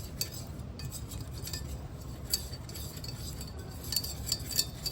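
Melted butter and half a cup of flour whisked together in a pan for gravy, with quick, light metallic scrapes and clinks of the whisk against the pan, close and steady.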